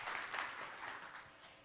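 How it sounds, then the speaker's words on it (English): Faint applause from a forum audience at the end of a session, a soft, distant wash of clapping that fades slightly toward the close. "Please give him a round of applause."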